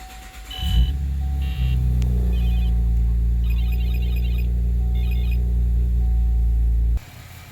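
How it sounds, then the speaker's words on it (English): Car engine starting after an oil change, a brief cranking followed by the engine catching into a steady low idle rumble, accompanied by a few electronic chime beeps, then cutting off abruptly near the end. "So we're just going to start the car."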